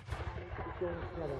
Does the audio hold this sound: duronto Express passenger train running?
no